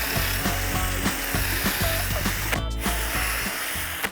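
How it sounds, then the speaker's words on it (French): A power drill bores a dowel hole into a wooden board, drilling parallel to the board's face, with a steady, loud, close whir and rapid ticking throughout and one brief dip near the end. "maintenant, on perce de manière parallèle à la planche."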